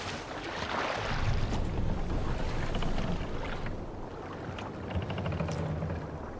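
A Viking longship sailing through waves in Assassin's Creed Valhalla, steady rushing water and wind noise with hull splashes and surf swelling throughout, loud and continuous, with no voices.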